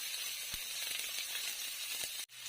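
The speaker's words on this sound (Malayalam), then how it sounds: "കടുക് പൊട്ടി വന്നിട്ട് ചെറുതായിട്ട് അരിഞ്ഞ് വെച്ചേക്കുന്ന സവാള ചേർത്ത് കൊടുക്കാം" Chopped onion sizzles in hot oil with popped mustard seeds, fennel and curry leaves for a soyabean curry: a steady, close frying hiss with a few faint crackles and a brief clatter near the end.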